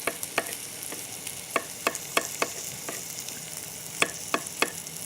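Bay leaf and garlic browning in a pan, a soft steady sizzle broken by sharp clicks of a utensil stirring against the pan at irregular intervals, close and fairly quiet with no talk.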